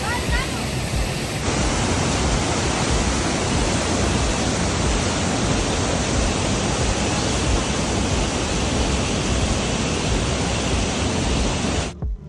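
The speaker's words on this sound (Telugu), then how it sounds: "ఇదే మీన్ముటి వాటర్ ఫాల్ అనమాట" Meenmutty waterfall in Wayanad roars as a loud, steady broadband rush of falling water, close and continuous for the whole stretch, with wind buffeting the microphone and no voices.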